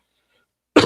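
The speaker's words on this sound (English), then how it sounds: "trying to fight off this cough" A single short cough bursts out near the end after near silence, close and fairly loud, from a man trying to shake off a cough during a Raiders sports talk show.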